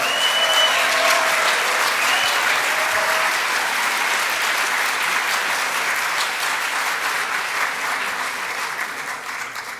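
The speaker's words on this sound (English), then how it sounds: "let's give a round of applause to our 2015 graduates" Audience at a law school honors and awards ceremony for 2015 graduates applauds in a sustained, dense burst of clapping that holds steady and then slowly tapers off, loud and close.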